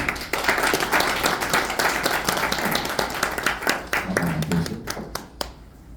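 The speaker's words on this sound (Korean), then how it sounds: "뜨거운 박수로 모시겠습니다" At a museum forum, a room of listeners gives warm applause to welcome Park Seong-guk of the Pyeongtaek Cultural Center, with dense, lively clapping that thins out into a few last claps.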